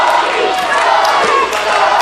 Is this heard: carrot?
no